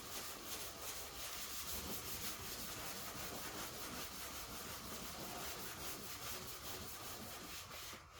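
A long sanding block rubbed over primer in a garage, giving a faint, even, continuous abrasive rasp of steady strokes with no talk.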